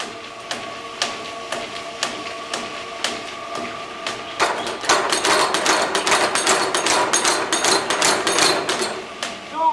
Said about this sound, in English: It is a spring hammer, which has never stopped working